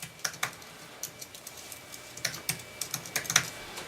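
Fast, uneven bursts of keystrokes on a computer keyboard while entering a calculation in Mathematica, close and fairly quiet, with clusters of clicks separated by short pauses and no voices.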